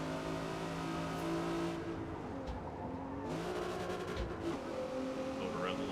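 Infiniti G35 engine in the Forza Motorsport racing game, a sustained droning engine note with rising and falling revs and shifts through gears, steady and continuous throughout.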